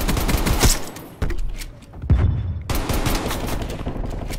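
Rapid 1911 pistol fire rings out in the shooter game Black Ops Cold War. Bursts of loud, close shots are broken by short quiet gaps.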